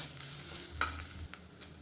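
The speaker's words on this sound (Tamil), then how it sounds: "இதில் நல்லா வாசனை வர அளவுக்கு வறுத்துக்கலாம் குறைவான தீயில் வச்சு வறுத்துக்கோங்க" Grated coconut roasting in a pan over a low flame, with a steady soft frying hiss and a few brief scraping stirs.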